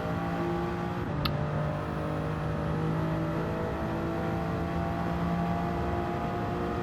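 A car engine in Gran Turismo 7 on a Nürburgring GP lap, likely a Porsche, holding a loud, steady high drone with a constant whir and no talk.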